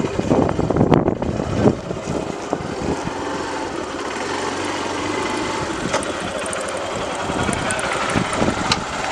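A Honda 125cc motorcycle engine runs steadily, its rumble building slightly as the clutch is slowly released and it moves off in gear, with no talking.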